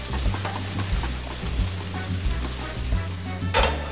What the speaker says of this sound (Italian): aggiungiamo del brodo vegetale per aiutare la cottura